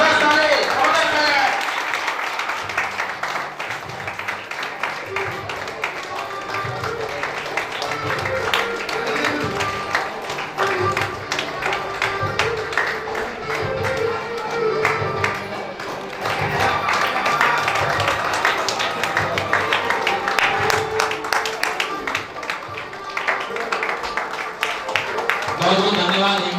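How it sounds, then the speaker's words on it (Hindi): A crowd at an achievers' awards ceremony claps long and loud, a dense patter of many hands that swells and dips over about half a minute, with an amplified voice and hall sound mixed in. "नॉन स्टाफ सर सुप्रीम जबरदस्त ताली"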